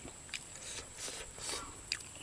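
Boiled beef tendon being chewed with crisp, crunchy bites, several soft, close crackling chews spread unevenly across a quiet moment, with no talking.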